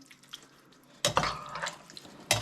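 Water poured from a tap into a pot of macaroni hamburger vegetable soup, a burst of splashing and trickling close by after a quiet start, ending in a brief clatter.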